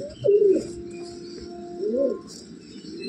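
A restless pigeon coos twice in close succession, two rolling, throaty calls standing out clearly over a low steady background hum, with a faint trailing coo at the end.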